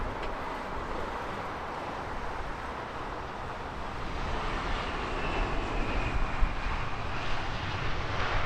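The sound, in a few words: Japan Airlines Airbus A350 jet airliner at Heathrow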